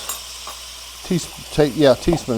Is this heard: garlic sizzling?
yes